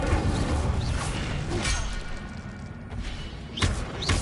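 A fire spell cast in the Hogwarts Legacy game: a dense, continuous roar of flame-like noise with repeated whooshing bursts and thuds, loud and steady throughout with a few sharper swells near the end.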